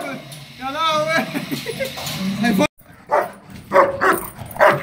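A young puppy growls and gives yelping barks while biting during a training session, close and loud, with someone talking over and between the sounds.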